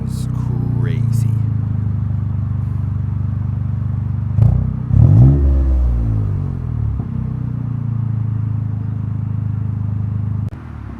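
A GR Corolla fitted with a 2J Racing exhaust pulling away, its deep steady exhaust rumble rising briefly in a louder surge midway, heard up close and continuous throughout.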